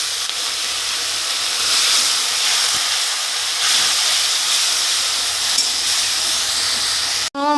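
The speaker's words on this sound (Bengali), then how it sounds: "একটু জল দিয়ে ভালো করে মশলাটাকে আরও কষিয়ে নেব।" Spice paste with chopped tomato, salt and a splash of water fries in a pan, a loud, steady close hiss and sizzle running unbroken, with no talking.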